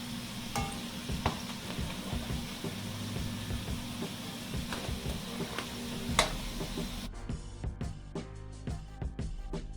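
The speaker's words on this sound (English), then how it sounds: "So I had them frying for a while now." Jamaican fried dumplings sizzle steadily in hot oil, a close, continuous crackle with occasional clinks and stirring, and the sizzle grows thinner near the end.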